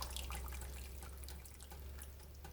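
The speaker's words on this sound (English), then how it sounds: "we're going to rinse the pot out" Tap water runs steadily into a pot being rinsed, a close, even splashing stream with no talk over it.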